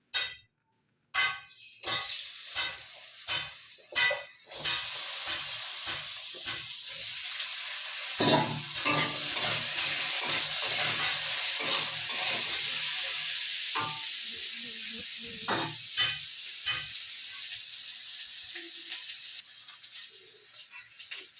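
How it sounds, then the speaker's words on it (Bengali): Potato pieces fry in a hot kadai (wok), giving a loud, steady sizzling hiss that rises sharply partway through and carries on, with scattered clinks and scrapes of a utensil against the pan near the start. "এই যে আমি আলুটা ভেজে নিই।"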